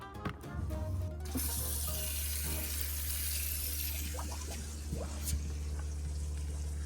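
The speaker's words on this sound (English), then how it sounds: "Let's turn the water pump on. We'll run the sink and test it." A sink tap runs steadily with a water pump switched on, a continuous close rushing stream over a low pump hum, with a few faint clicks and knocks.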